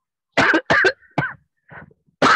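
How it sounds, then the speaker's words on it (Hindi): A series of sharp, close coughs from one person, three quick bursts followed by a weaker, throaty cough and then another burst at the end, heard on an online class call with no talking over them. "क्या खांसी हो गया है"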